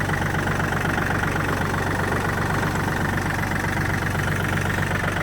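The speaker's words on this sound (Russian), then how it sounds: "Здесь, как я уже сказал, трехцилиндровый дизель." A three-cylinder diesel mini tractor engine idles steadily, a constant low rumble with a rapid knocking pulse, close and continuous throughout.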